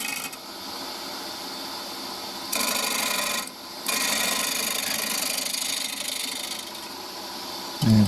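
A woodturning gouge makes pull cuts on a spalted hazel lidded pot spinning on a lathe, giving a steady raspy hiss over the motor hum that swells louder for stretches and briefly drops away, with no talk.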